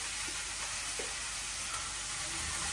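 Vegetables fry with green chili, salt and turmeric, giving a faint, steady sizzle with a soft stir or two under a constant background hiss.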